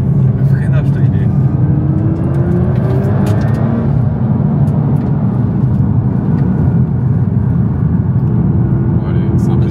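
A Nissan GTR R35 sports car drives loudly from inside the cabin, a dense engine and road roar with shifting tones as it accelerates and brakes, while people talk over it.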